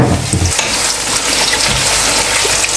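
Two medium onions frying in hot oil for an okra dish: a loud, dense, continuous sizzle close by, slightly rougher in the first half-second, and no talking.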